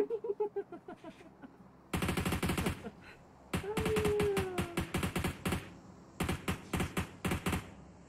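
Bursts of automatic gunfire in the mobile battle-royale game PUBG Mobile, rapid-fire volleys in several clusters with short pauses between them, loud and close, plus a brief whooshing effect partway through.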